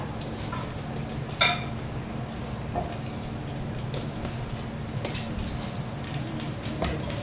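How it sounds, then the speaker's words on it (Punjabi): Cumin seeds sizzling in hot ghee, a faint, steady crackling fizz with small pops and a clink of a utensil against the pan. "ਘਿਓ ਆ ਜਿਹੜਾ ਆਪਣਾ ਗਰਮ ਹੋ ਗਿਆ ਤੇ ਹੁਣ ਇਹਦੇ ਵਿੱਚ ਆਪਾਂ ਪਾ ਲਾਂਗੇ ਜੀ ਜੀਰਾ"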